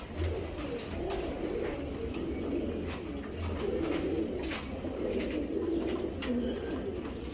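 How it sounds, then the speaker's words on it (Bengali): A long-distance racing pigeon hen, a breeder bird, coos amid other pigeons, with repeated low throaty calls pulsing under a steady din of loft noise. "লং ডিস্টান্সের একটা কবুতর"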